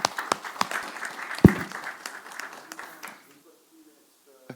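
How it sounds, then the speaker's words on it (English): An audience after a talk claps lightly, a thin smattering of individual claps that tapers off within three seconds, with a voice speaking briefly at the end. "Let's give him a round of applause."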